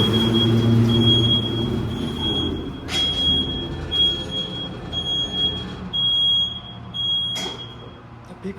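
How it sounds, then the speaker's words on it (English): A Bison hydraulic freight elevator's beeper at an arts center sounds a loud, steady high-pitched tone in repeated pulses over a low mechanical hum, with two short metallic clanks. "The beeper is very loud."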